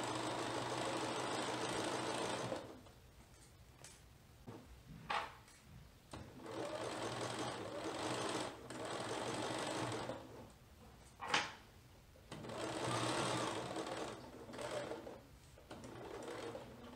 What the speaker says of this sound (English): And now we're going to stitch down the other side.